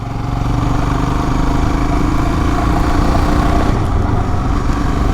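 A motorcycle fitted with an RK performance chain and sprockets runs loud and close, its engine holding a steady, dense drone that swells slightly as it pulls, with no voices over it.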